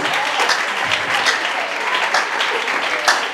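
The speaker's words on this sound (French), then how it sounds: "On applaudit très fort pour le Seigneur" A church congregation at a Nkombo cell gathering applauds loudly, with dense, steady clapping throughout, some voices mixed in.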